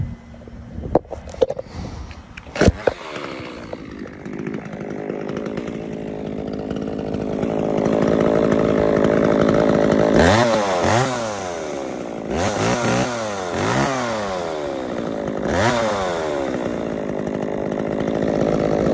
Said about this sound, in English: got an Echo chainsaw here.